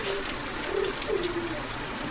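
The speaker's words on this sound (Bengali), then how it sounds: "এটা তো রাজশাহী লাল কবুতর" Rajshahi red pigeons at a pigeon farm give soft, low, rolling coos in a few short bursts, faint against a hushed background hiss.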